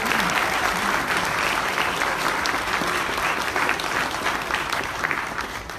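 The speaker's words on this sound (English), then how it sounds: "Please let's give them a round of applause." Sustained applause from a large audience at a national Venturing and Sea Scout reception, a dense, steady wash of many hands clapping close and loud throughout, with no talk over it.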